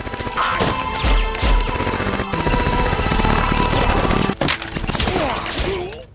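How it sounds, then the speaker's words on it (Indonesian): Gunfire in an anime battle scene, a three-way shootout with rapid bursts, crashes and thumping impacts layered over music, loud and dense throughout with a short break near the middle. "terjadilah adu tembak antar ketiga belah pihak"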